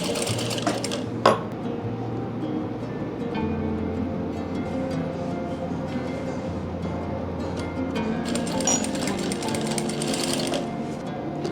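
A sewing machine runs steadily while stitching wide lace onto a dupatta, a close, continuous mechanical whir with a fast rhythmic needle clatter and one brief knock near the start.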